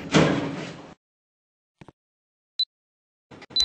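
Sliding elevator doors open in a Roblox lift game featuring a Schindler 5500 Mod Ultima lift with Thames Valley controls: a short whooshing slide, then silence broken by small clicks and two brief electronic beeps.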